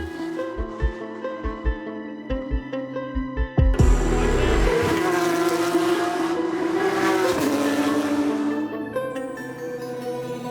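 GT3, GT4 and TCR race cars at the Bang Saen circuit. A few rhythmic low thumps come first, then a sudden loud engine roar bursts in and stays strong for several seconds before easing off.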